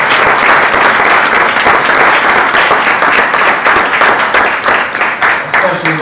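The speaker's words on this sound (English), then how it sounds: "Give them a nice round of applause." Loud, close applause fills a Black History Month gathering in Salford, thanking councillors with a dense, sustained burst of clapping that thins slightly toward the end.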